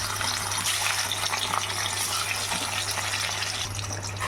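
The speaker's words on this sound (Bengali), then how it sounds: "আমি কড়াইয়ে তেলও বসিয়ে দিয়েছি। দেখুন, তেল গরম হয়ে গেছে। আমি এবার এক এক করে মাছগুলো ছেড়ে দেবো।" Gurjali fish slides into hot oil in a wok while cooking a fish kalia, giving a loud, steady, close sizzle with a low hum underneath and no talk.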